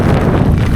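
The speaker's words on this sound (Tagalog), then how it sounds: "Ang lakas ng hangin." Strong wind buffets the microphone, a loud, rough roar that stays constant for the whole short moment.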